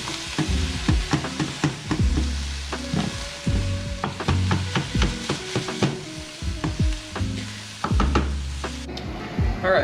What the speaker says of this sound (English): we're done browning up our beef sausage